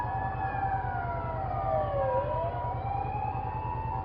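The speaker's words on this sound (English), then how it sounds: "Ambulance." An ambulance siren wails in a street in Tokyo, a steady up-and-down tone close by over a rumbling engine, with no talking.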